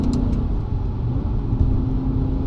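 A BMW M5 Touring with an SMG transmission revs hard under acceleration, a loud, close, steady engine roar with slight pitch changes through the shifts and no talking.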